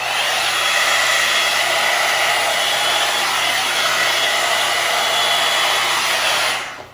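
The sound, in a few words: hair dryer blow-drying hair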